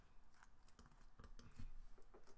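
Quiet clicking of keys on a computer keyboard as code is typed, irregular bursts of short taps at close range, soft and without speech.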